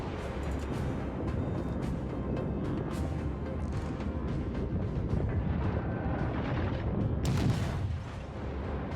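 Naval guns firing in the World of Warships video game, a dense, steady rumble of booming artillery with continuous low-end roar and scattered sharper blasts throughout, no talking.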